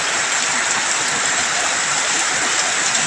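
Heavy morning rain pours down over a building site with water-filled pits, a dense steady hiss of rainfall that fills the scene evenly, loud and close, without any talking.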